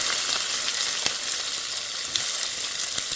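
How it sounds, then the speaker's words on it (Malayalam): Sliced onion and green chillies sizzle steadily in hot oil, a dense continuous frying hiss with faint scraping stirs, close and unbroken, for a Kerala dish with roasted coconut. "സവാളയും പച്ചമുളകും കൂടെയാണ് കേട്ടോ ഇപ്പോൾ ആഡ് ചെയ്ത് കൊടുക്കുന്നത്"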